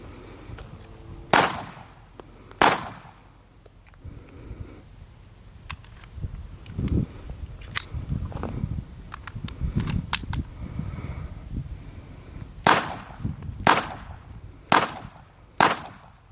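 Sharp 9mm handgun shots ring out at a solid rubber target stand outdoors, a couple of loud reports early, then a quieter stretch, then a quicker cluster of four shots near the end.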